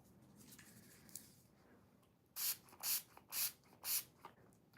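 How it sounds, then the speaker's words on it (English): Guitar polish spritzed onto a cloth in four quick, close hissing bursts, following a stretch of faint rubbing as the instrument is polished. No voices are heard. "you want to spray it on the cloth. Don't spray this shit directly on your guitar."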